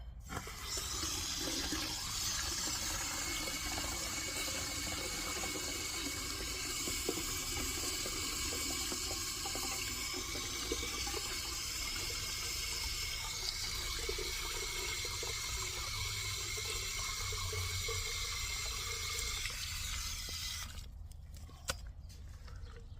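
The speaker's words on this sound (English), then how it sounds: "And then I will fill this with water." Water runs from a tap into a container in a garden setting, a steady rushing and splashing fill that keeps going for about twenty seconds before it shuts off, with no talking.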